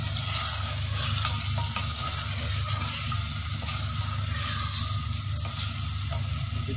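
Beef with green chillies frying in a handi, a dense continuous sizzle and crackle held close and loud throughout, with faint stirring scrapes and no talking.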